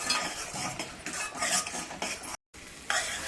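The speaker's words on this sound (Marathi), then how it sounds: "आता एक दोन मिनटं आपण असं छानसं परतून घेऊया" Masala and pav bhaji vegetables are sautéed in a pan, with a stirring spoon scraping and clinking against the metal over a soft sizzle and a brief drop to silence near the end.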